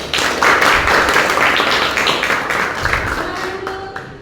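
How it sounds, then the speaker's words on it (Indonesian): Students in a Christian religious education class clap for a classmate group, a dense, close round of applause that gradually thins out and fades toward the end. "Tepuk tangan untuk kelompok 1."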